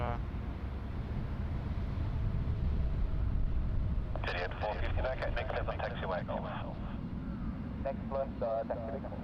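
An Etihad airliner arriving at Sydney Airport gives a steady, broad low roar throughout, with a person talking over the second half.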